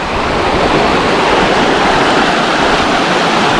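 Mandwa waterfall in Bastar with a strong, fast current: a loud, steady, rushing roar of water, close and continuous throughout.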